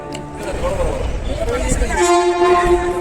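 A train rolls in with a long horn blast sounding over the rumble, while people talk nearby.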